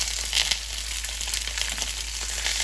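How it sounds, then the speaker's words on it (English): Beef pieces for stroganoff searing in hot oil in a smoking-hot pan, a loud, steady broadband sizzle running unbroken and close throughout. "I'll add a little oil, and let's go ahead and put in our meat"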